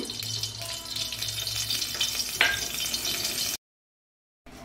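Mustard oil going into a wok, a close liquid sizzle and splashing with a brief sharper clatter midway, continuous until it cuts to silence near the end.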